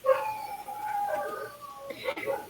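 Dogs at a rural farm home howl and whine in the background, a drawn-out canine wail running beneath someone talking.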